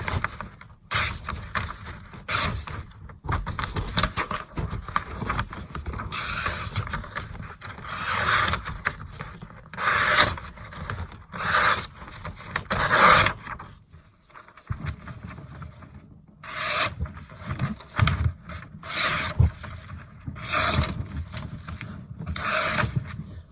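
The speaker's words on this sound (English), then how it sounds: "let's do a paper cut test" A knife repeatedly slices through sheets of printer paper, producing a series of short, crisp rasping swipes with brief pauses between them, fairly close.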